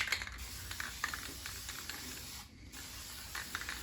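Self-etching primer hisses from a spray can onto a panel of a chopped-up 1974 Chevy Nova in a home garage, a close steady spray with brief pauses and small clicks.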